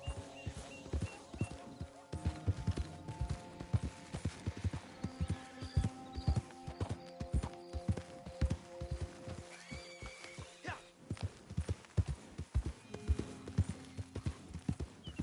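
Horse hooves clip-clopping steadily at a brisk pace in the video game Red Dead Redemption 2, a continuous rhythmic clatter with occasional faint whinnies mixed in.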